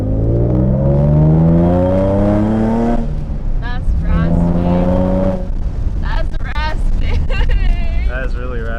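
A Nissan 350Z fitted with headers and test pipes revs up raspy and loud, rising in two pulls, then the exhaust settles to a rough idle with more blips as people talk nearby.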